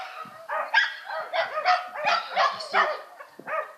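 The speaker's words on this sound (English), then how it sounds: "Dogs are having fun." Several dogs bark and yip in quick playful bursts outdoors at Knaresborough, North Yorkshire, moderately close with short gaps between barks.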